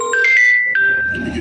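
A phone ringtone chimes in a short melodic run of steady electronic tones, loud and close, fading into a low murmur at the end.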